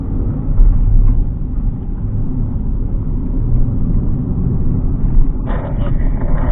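A car accelerating through a slalom of cones, its engine a steady low rumble close by that rises slightly near the end, with no talk over it.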